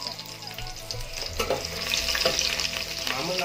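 Onions fry in a pan for a Malnad jigujje sambar, giving a continuous close sizzle with occasional stirring scrapes and soft knocks.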